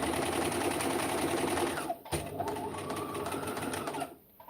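Sewing machine running a steady straight stitch through fabric, close and continuous for about two seconds, then a brief pause and a slightly lighter resumed run before it stops.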